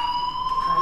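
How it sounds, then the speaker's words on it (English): A fire alarm rings steadily in the video game Life is Strange, a loud continuous electronic tone that holds at an even pitch throughout, with no speech over it. "Hey, do you hear that fire alarm?"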